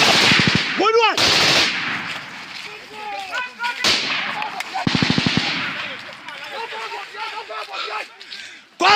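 Machine guns and rifles fire during an armed confrontation in Nigeria, with several rapid bursts of automatic fire crackling loudly amid shouted voices and scattered sharper cracks.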